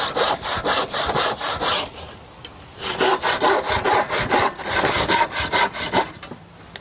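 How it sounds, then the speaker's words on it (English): A handsaw cuts 3x2 timber into lengths for a garden cloche base, with loud, close, rhythmic back-and-forth strokes in two bursts separated by a short pause and no talking. "And you just chop it into lengths to fit your veg beds."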